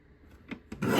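A paper trimmer slicing cardstock gives two short scraping strokes and then a louder sustained cutting rasp, heard close by with no talk.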